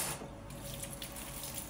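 Running tap water pours continuously into a sink while utensils are rinsed, a steady moderate hiss and splash with no talking.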